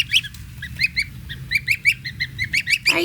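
Newly hatched baby birds in a brooder box peep in rapid, high, repeated chirps, several chicks overlapping close to the microphone over a low background hum.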